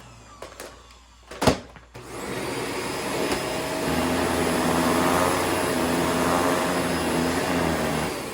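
A few sharp clicks and a thump, then a Shark cordless vacuum cleaner starts and runs steadily on carpet with a loud, even whine and whoosh.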